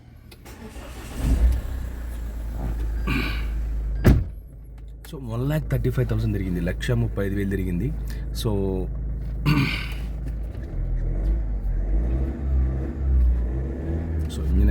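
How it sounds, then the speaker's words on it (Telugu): A 2015 Mahindra XUV500 W10 with a 2.2-litre diesel engine and push-button start cranks, fires and settles into a steady idle, with someone talking over the running engine. "సో వెహికల్ స్టార్ట్ చేస్తున్నా"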